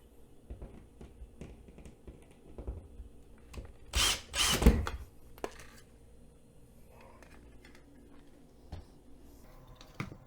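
Screws being backed out of a smoke detector base plate with a power driver, a quiet setting with small clicks and handling sounds and one loud whirring burst of the driver near the middle.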